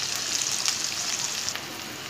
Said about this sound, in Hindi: प्याज को लाइट ब्राउन कर रही हूँ मैं